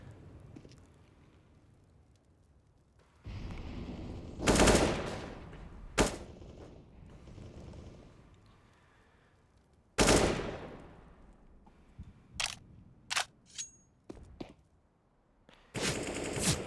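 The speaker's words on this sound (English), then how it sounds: "Shots coming right through." Gunfire rings out in a Counter-Strike match on the Dust 2 map: several separate rifle bursts and single cracks, some long rattling volleys and some short sharp shots, loud and close with quieter gaps between.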